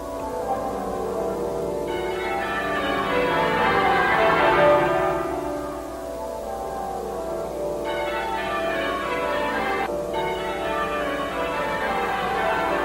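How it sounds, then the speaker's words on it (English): Church bells of the Abbey ring in a continuous peal, overlapping rounds of strikes washing loudly and steadily through the whole stretch with no voices. "It was a spell broken only by the bells of the Abbey."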